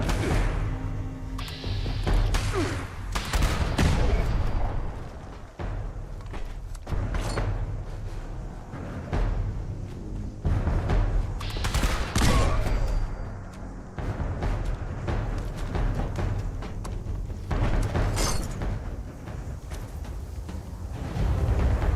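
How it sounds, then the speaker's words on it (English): In the Fallout 76 video game, heavy weapon fire booms and cracks in dense, irregular bursts with mechanical clanks between them, loud and close throughout. "It's still shooting."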